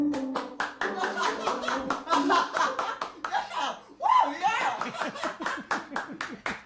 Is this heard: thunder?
no